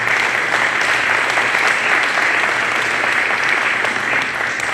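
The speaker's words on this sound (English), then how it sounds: "let's give a round of applause to City Council" An audience at a city announcement on expanding after-school programs gives a sustained round of applause, with dense, even clapping filling the room throughout.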